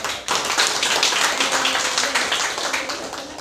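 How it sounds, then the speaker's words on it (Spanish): Dense, loud clapping from an audience after a scientific research presentation, a continuous close crackle of many hands that holds steady throughout. "le pido un fuerte aplauso"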